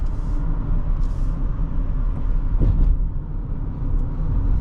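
Steady low rumble of a 2023 Toyota Sienna LE Hybrid minivan accelerating smoothly through its CVT, heard from inside the cabin as a constant drone without gear shifts.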